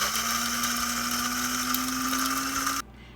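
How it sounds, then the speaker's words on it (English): A small electric spice grinder whirs steadily at high speed as it grinds oatmeal into flour, its pitch rising slightly before it cuts off abruptly near the end. "I'm going to put it in our little spice grinder here"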